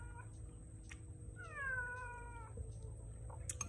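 A cat gives a single drawn-out meow near cat food, fairly faint over a low steady background hum with a few soft clicks around it.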